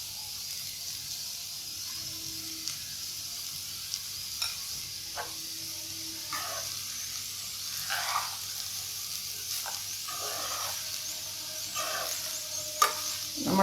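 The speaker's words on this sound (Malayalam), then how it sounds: "നമ്മൾക്കൊന്ന് ഇളക്കി കൊടുക്കാം" Basmati paneer fried rice is stirred in a pan, with soft scraping strokes and gentle crackles from the spatula over a faint steady sizzle, fairly close and without speech.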